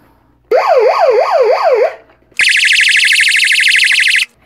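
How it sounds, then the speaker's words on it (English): A Weather X WR383R weather radio sounds its built-in siren, loud and close: first a rapidly wavering rising-and-falling wail, then after a short pause a higher, fast-warbling electronic alarm tone, with no talking. "It even has a siren in it"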